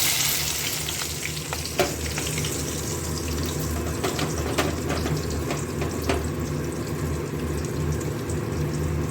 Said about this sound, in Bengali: পেঁয়াজ আর রসুনটা ভাজতে দিয়েছি